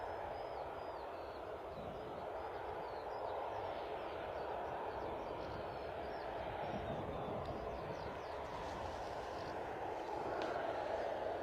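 Passenger jet departing Bristol Airport bound for Belfast, a steady, distant broadband engine roar holding level throughout with no voices.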